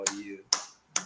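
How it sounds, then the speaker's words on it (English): Three sharp, close hand claps come at an even, deliberate pace about half a second apart, each one crisp and quickly fading, with a faint voice briefly underneath the first. "I am here clapping for you."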